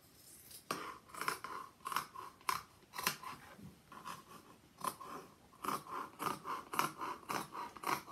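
Scissors snip through two layers of pinned fabric while cutting out sewing bunting flags, a run of close, crisp cuts in an uneven rhythm with brief pauses, no talking.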